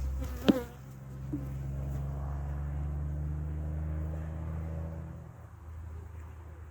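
A steady, low buzzing drone of many honeybees close by in a hive, with a brief sharp knock near the start, fading slightly toward the end.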